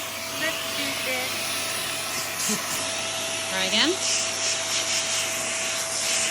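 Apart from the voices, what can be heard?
Vax Airmax Stretch vacuum cleaner running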